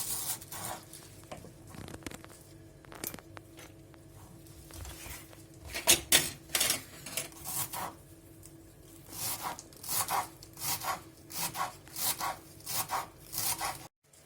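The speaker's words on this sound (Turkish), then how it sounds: "bir demet maydanozumuzu doğrayacağız." Quick rhythmic knife strikes chopping a bunch of parsley on a cutting board, close and fairly quiet, speeding into a steady run of chops toward the end.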